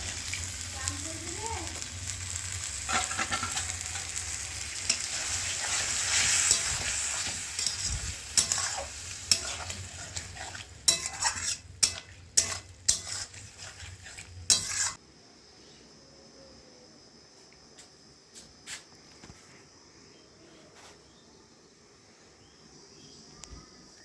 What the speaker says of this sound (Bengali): ভালো করে মশলাটি মিক্স করে কিছুক্ষণ কষিয়ে নিয়েছি।